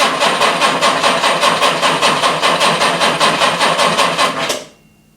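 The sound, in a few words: original Jaguar E-Type starter motor cranking cold engine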